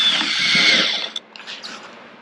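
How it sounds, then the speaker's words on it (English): A power drill bores a pilot hole through the roof of a camper, a loud high whine for about a second that cuts off abruptly, followed by a few faint clicks and knocks. "So I'm drilling out the pilot holes in each corner that I'll use to clock the exact reference corner points."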